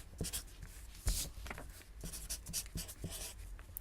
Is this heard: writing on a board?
yes